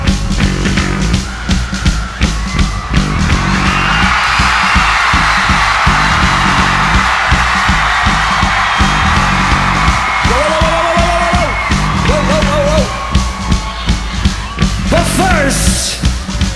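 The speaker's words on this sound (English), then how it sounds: "I need every single person here in Milton Keynes to freak out" A large concert crowd in Milton Keynes yells and cheers continuously, a dense, loud roar with rhythmic stomping or clapping throughout and rising whoops near the end.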